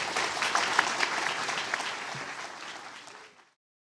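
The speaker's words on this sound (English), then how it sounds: "So please give a round of applause for our panelists." A conference audience gives the panelists a warm round of applause, a full, even wash of clapping that fades out and ends in silence, with no talking over it.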